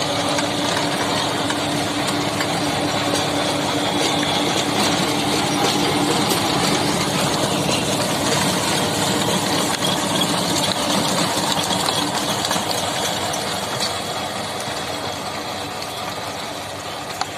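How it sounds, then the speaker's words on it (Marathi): A John Deere 5210 tractor driving a rotavator through farm soil, heard close up as a steady, loud, continuous engine drone with a broad mechanical rumble and churning clatter, holding constant throughout before easing slightly at the end. "John Deere 5210. बघा किती सुंदर पद्धतीनं रोटावेट होतंय."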